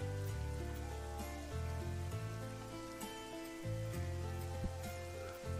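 Rain falls in the frontier settlement-building game Depraved as a soft, steady hiss beneath louder sustained background music with low droning tones.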